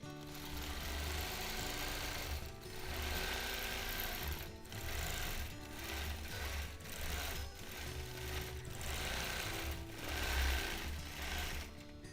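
A sewing machine runs steadily through free motion quilting of a palm leaf design, its fast needle hum pausing briefly and restarting several times. No talk is heard.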